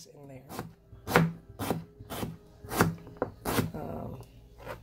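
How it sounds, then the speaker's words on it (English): Knife slicing a beet on a cutting board, about eight crisp, evenly spaced chops against the board, close and distinct, with no talking. "I'll slice this up here in front of you so you can see how beautiful it is"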